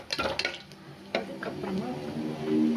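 A spoon stirs a bay leaf into a pan of mushroom pulao, with clinks and scrapes against the metal early on and a soft sizzle of frying that builds toward the end.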